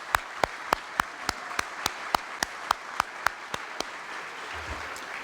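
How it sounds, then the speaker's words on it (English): Sparse, evenly spaced claps from a small audience at a chamber of commerce annual dinner meeting, roughly a dozen sharp single claps over a quiet room background rather than a full round of applause. "Let's give them a round of applause."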